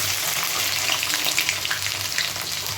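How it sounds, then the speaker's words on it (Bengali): Chopped ginger fries in hot oil with a loud, continuous crackling sizzle and scattered spits and pops, heard alone without speech. "এবার আমি আদা কুচিটা দিয়ে দিচ্ছি"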